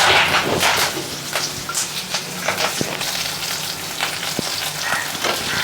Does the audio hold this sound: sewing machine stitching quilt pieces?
no